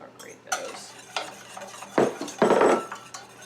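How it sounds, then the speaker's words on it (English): A whisk scrapes and clatters through honey, oil, vanilla and egg whites in a bowl in irregular bursts, growing louder toward the end; no talking. "I think I'm going to use the whisk on this to incorporate those"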